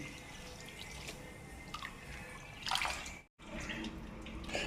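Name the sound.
water poured into a vessel for soaking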